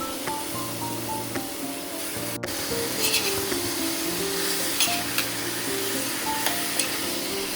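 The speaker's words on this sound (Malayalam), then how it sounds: "ഇനി അതിലേക്ക് കഴുകി വെച്ചിരിക്കുന്ന ചിക്കൻ പീസസ് കൂടെ ഇട്ട് കൊടുത്ത് ഒന്നുകൂടെ ഒന്ന് ഇളക്കിയെടുക്കണം." Washed chicken pieces stirred in a pan for a Kerala-style chicken stew, giving a steady soft sizzle with scraping stirring strokes and faint tonal music underneath.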